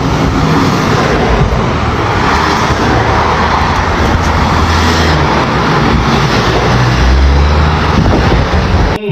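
Dense road traffic of a long car convoy rolling through Lagos, a steady loud roar of engines and tyres with low rumble, continuous and close throughout.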